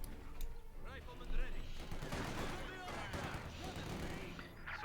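Machine gun bursts and scattered rifle fire from a Company of Heroes 2 battle between Soviet conscripts and German troops rattle continuously, mixed with other combat noise, while a voice talks over them.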